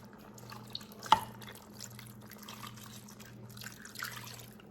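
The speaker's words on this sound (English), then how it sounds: "now what I'm going to do is add our coconut milk" Coconut milk pours into a pot of curry cabbage soup, a soft steady liquid trickle with one brief clink near the start, close and fairly quiet over a low background hum.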